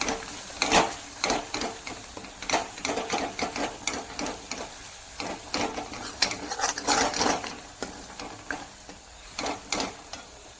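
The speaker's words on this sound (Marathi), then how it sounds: "याला चांगलं भाजून घ्यायचं आहे, जेणेकरून मसाल्याला चांगला कलर सुटेल" Homemade black masala and spices roasting in a pan as rapid, irregular scraping and stirring clatters, close and fairly quiet over a low background hum.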